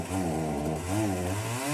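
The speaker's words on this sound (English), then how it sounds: "Turn that fucking chainsaw off!" Chainsaw running at a steady, loud, close roar with a slight rise and fall in engine pitch, alone without voices.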